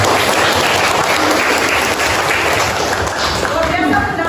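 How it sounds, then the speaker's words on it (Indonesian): A classroom of students bursts into loud, dense applause, a thick unbroken wash of many hands clapping at close range that continues evenly throughout. "tepuk tangan yang luar biasa"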